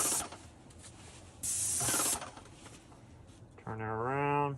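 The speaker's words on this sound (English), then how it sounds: "Take your spray nozzle," Paint sprayer hissing in two broad bursts while spraying kitchen cabinets, loud and close with brief gaps between, followed by a short tonal voice at the end.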